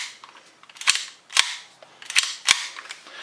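Tokyo Marui Hi-Capa airsoft pistol with a threaded barrel and suppressor fired while held upside down, sharp snapping shots with mechanical clacks, several spaced bursts, close and loud.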